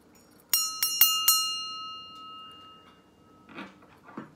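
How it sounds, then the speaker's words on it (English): A small Wiccan altar bell is struck four times in quick succession, each bright metallic ding ringing out and decaying slowly, followed by faint handling noises. "And that is the bell."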